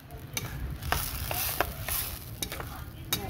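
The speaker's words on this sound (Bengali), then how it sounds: "এর সঙ্গে এবার আমি ভালো করে মশলাটাও কষিয়ে নেব" Spice paste with turmeric frying in oil while being stirred: a close, steady sizzle broken by clicking, scraping spatula strokes against the pan.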